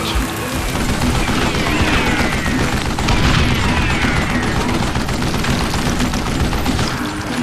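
Dense, loud gunfire fills a shootout in the Western shooter game Call of Juarez: Gunslinger, with overlapping shots and booms running almost without a break.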